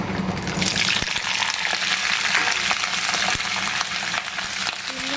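Flat beans tipped into a hot wok of oil tempered with nigella seeds and dried red chilies, giving a loud, steady, close sizzling hiss that runs unbroken throughout with no voices.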